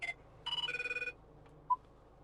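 A telephone rings through the cabin of a 2011 Range Rover Evoque: a short, rapid electronic trill repeated in quick pulses, followed by a brief single tone, in otherwise quiet surroundings.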